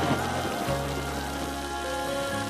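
Steady rain patters on a surface, constant and moderately loud, with a low tonal hum running underneath.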